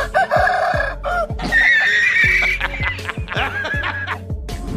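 A rooster crows loudly nearby while a bird answers by mimicking its call, the two calls overlapping in repeated bursts over a steady low background with no talk.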